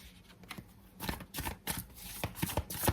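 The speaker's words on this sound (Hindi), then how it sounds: "इतने सारे कार्ड मैं नहीं लूँगी, फिर से शफल करेंगे एक बार।" Tarot cards shuffled by hand nearby, producing a run of crisp riffling and slapping bursts that grow denser and louder toward the end.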